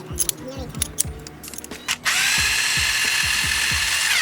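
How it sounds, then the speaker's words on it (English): A power tool drives a spring compressor on a Nissan 370Z suspension spring, whirring steadily and loudly after about two seconds of clanking and tapping, running continuously to the end. "I have to reuse the spring compressor so we can compress it down"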